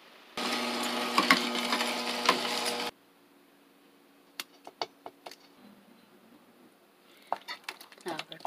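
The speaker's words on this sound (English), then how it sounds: "let's grind the pears, onion, radish, and garlic" Pears, onion, radish and garlic being ground for young radish kimchi, a dense, steady whirring blend for about two and a half seconds, then scattered knocks and clatter.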